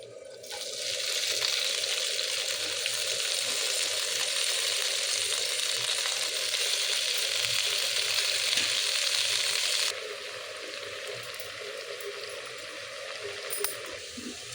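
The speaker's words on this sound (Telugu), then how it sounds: "సేమ్ ప్యాన్లో ఒక 2 టేబుల్ స్పూన్స్ ఆయిల్ వేసుకొని కొంచెం హీట్ అయిన తర్వాత ఆకు వేసుకోవాలండి." Washed Bacopa (Brahmi) leaves go into about two tablespoons of hot oil in a pan, giving a loud, steady broadband sizzle that runs continuously and eases down somewhat partway through.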